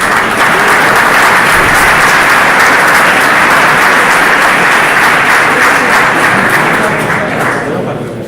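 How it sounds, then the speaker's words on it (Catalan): A school assembly audience gives sustained, loud applause, a thick unbroken roar of clapping that fades a little near the close. "Un aplaudiment."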